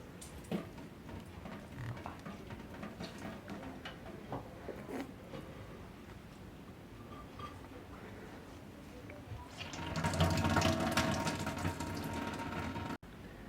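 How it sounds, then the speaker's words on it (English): Grated potatoes are squeezed by hand in a home kitchen to press out their excess water. Faint soft wet handling comes first, then a louder burst of dripping and squelching liquid near the end. "Now I will squeeze them to take out the water, excess water, like this."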